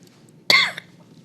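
A single sharp cough cuts through a quiet meeting room, one short harsh burst followed by near silence and a faint background hum.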